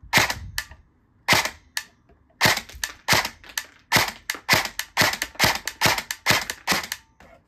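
A Colt M4 CQB R airsoft gun fires about fifteen sharp, loud shots up close. They come in uneven single shots and quick clusters, with brief pauses between groups and no talking.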